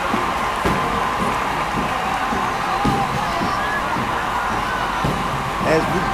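Crowd at a Miracle League baseball game cheers and shouts, with a steady murmur and occasional whoops and children's voices.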